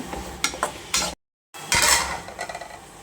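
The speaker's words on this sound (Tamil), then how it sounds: "கேரட்டு, பீன்ஸு, கேப்சிகம் இதெல்லாம் போட்டுக்கலாம், வதக்கிக்கலாம்." Carrot, beans and capsicum being sautéed with spices in a pan for idli upma, with a few scraping stirs and a soft sizzle, broken by a brief silent gap.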